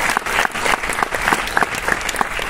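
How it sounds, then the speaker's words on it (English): Audience applause fills the hall at a Bharatanatyam dance debut recital: dense, continuous clapping from a seated crowd, close and steady throughout. "I think they need a bigger applause."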